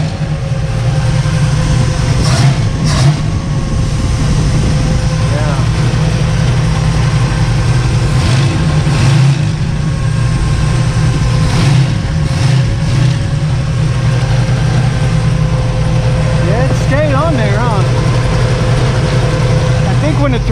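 Engine of a 1963 Chevy Nova idling in a steady low rumble with a few brief throttle blips, close and constant throughout.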